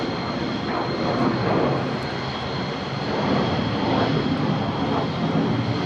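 Two F-35 jets circle overhead at RAF Lakenheath, producing a steady, fairly distant roar that swells and eases gently without any break.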